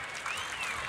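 Stadium crowd clapping at a Banana Ball game, a dense, continuous wash of applause at moderate distance.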